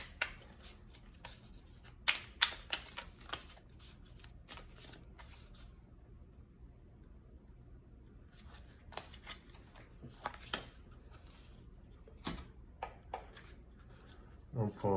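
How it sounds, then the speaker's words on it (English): Oracle cards being shuffled and pulled in bursts of crisp riffling and flicking, close and fairly quiet, separated by a calmer stretch in the middle. "So first we'll pull an oracle card for you guys."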